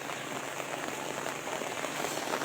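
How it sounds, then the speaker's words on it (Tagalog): Steady rain falling in Negros Occidental shortly before a tornado, a dense continuous patter of drops on surfaces, close and fairly loud throughout with no voices. "Ara naman nagulan na."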